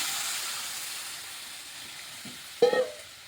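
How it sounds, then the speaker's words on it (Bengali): Water poured into a pan of fried vegetables for a curry: a steady soft sizzle fades gradually, then a sudden louder hiss and bubbling burst rises briefly before settling, with no voices. "এখন আমি এটা রসাটা দিয়ে দিচ্ছি, জল দিয়ে দিচ্ছি।"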